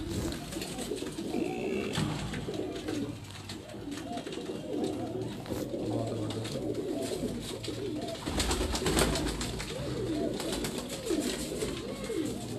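Pigeons cooing on a rooftop in Larkana, Sindh, a continuous chorus of overlapping soft coos and rolling calls from several birds, close and steady, with faint background noise.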